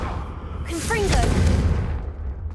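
A Confringo blasting spell cast in Hogwarts Legacy bursts out with a whooshing rush and a booming impact, a rising whistle-like streak over a low rumble.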